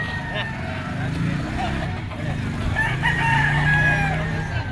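A yellow-legged talisay gamecock stag crows at a bustling rooster market, two drawn-out crows rising over a steady crowd murmur and background chatter from people nearby.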